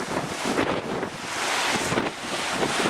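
Waves on a wild day on the Isle of Man coast, the sea bursting through rocky chasms and caves, a broad, loud rushing surge heavily mixed with wind buffeting the microphone.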